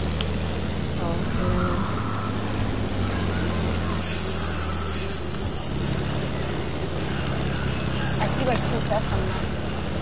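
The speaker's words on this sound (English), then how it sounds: "There's another airplane." Airplane flying in a video game, a constant droning propeller-like engine hum running steadily throughout, with people talking over it.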